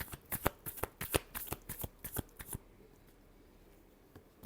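Tarot cards shuffled by hand in a quick run of crisp riffling snaps for about two and a half seconds, then near silence with a faint final tap.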